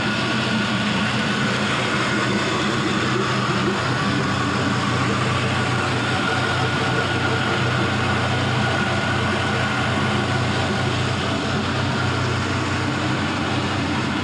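A 5.3L LS V8 idles steadily while warming up, a dense, continuous engine drone with a constant low rumble that stays loud and even throughout.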